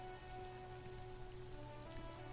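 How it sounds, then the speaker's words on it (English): Rain falls in the video game Disco Elysium as a soft, even patter on surfaces over a low steady hum, constant and fairly faint with no voices. "Wait, it's raining?"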